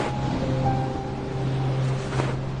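Sea waves wash in a steady, low, broad rush. A faint hum runs beneath, and no voices are heard.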